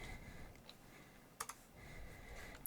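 Typing on a computer keyboard in a Minecraft modded session: a few quick, light key clicks in two small bursts over a steady low room hiss, fairly quiet and close.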